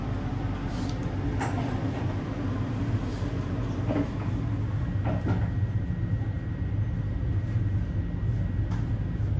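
The Argo Semeru train pulls away from Kebumen station with a steady low rumble heard from inside the carriage, broken by occasional soft clunks and rattles.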